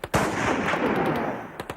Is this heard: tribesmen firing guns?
yes